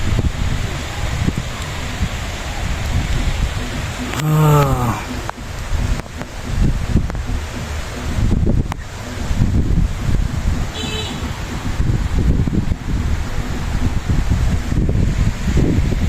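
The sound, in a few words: rain with wind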